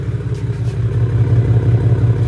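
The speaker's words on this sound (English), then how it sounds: "how it sounds just idling" A BMW 328i with aftermarket eBay headers idles warm, giving a steady, loud, low burbling rumble with an even pulse and no revving, heard alone.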